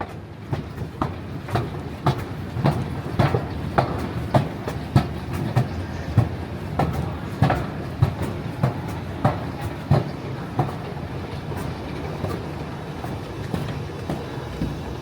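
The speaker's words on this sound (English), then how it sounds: "Eastbound train to Blair is arriving." An eastbound Ottawa light rail train arriving at a station rolls steadily with rhythmic clickety-clack of wheels over rail joints, a constant rumble beneath the regular clicks.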